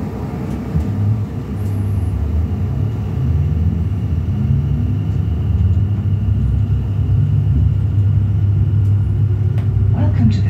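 Abellio class 720 electric units 720556 and 720539 run between Southend Victoria and Shenfield, heard from inside as a steady, loud low rumble of wheels and traction with faint rattles throughout.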